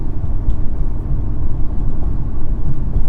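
A 365 hp BMW M2 with a manual gearbox rumbles as it is shifted into fourth gear, a low steady engine drone heard from inside the cabin with no talking.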